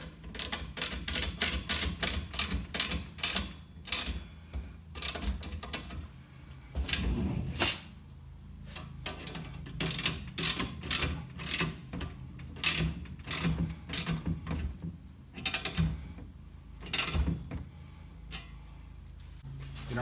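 Bolts being tightened during assembly of a Kobalt 15 amp 10 inch carbide-tipped table saw, KT1015, with bursts of rapid ratcheting clicks and tool taps up close, pausing between runs.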